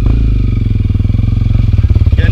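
A motorcycle engine revs hard on a rough, steep mountain trail, running up through first gear with a steady pulsing drone, then shifting into second near the end. The sound is loud and close.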